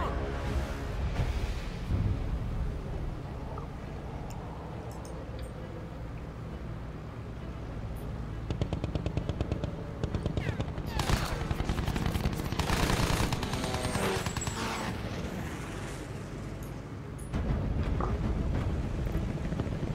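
Gunfire aimed at German planes in Battlefield 1 rattles in dense bursts of machine-gun fire, loud and close, with engine drone and intermittent pauses between volleys.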